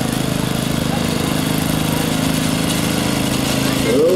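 A 1931 Model A Ford Roadster rolls past in a tractor parade at a steam and gas show, its engine a steady low chugging drone beneath an announcer's voice.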